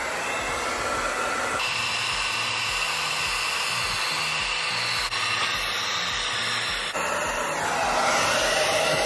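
Heat gun blowing hot air to reheat and soften glue on the bow handle of an inflatable boat, a steady close whooshing roar lasting throughout with slight shifts in tone.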